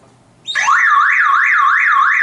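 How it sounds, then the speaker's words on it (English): A loud electronic car alarm kicks in after a brief quiet moment, wailing in a steady rising-and-falling siren pattern that continues without pause, still sounding with the car battery disconnected. "And alarm is still on, even that battery is away."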